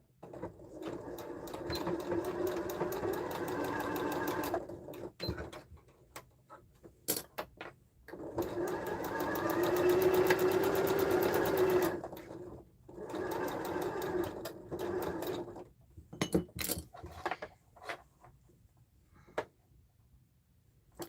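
Home sewing machine stitching the gusset seam of a fabric sling, running in long steady bursts of rapid needle clatter with short pauses between runs, close and fairly loud.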